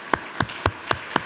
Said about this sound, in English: I'm going to just start by clapping just for them a little bit